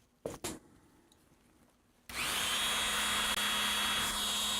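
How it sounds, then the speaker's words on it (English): A power tool cuts a printed circuit board clamped in a vise. After two brief knocks in near silence, a loud, steady grinding whine starts midway and runs to the end. "It's going in the vise, and I'm just going to chop it."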